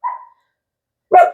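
Dogs bark indoors, close and loud: a short bark at the start, a pause of silence, then another sharp bark at the end.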